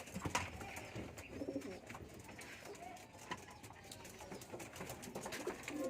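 Soft pigeon coos repeat through a busy outdoor soundscape, with scattered chirps and background voices murmuring nearby.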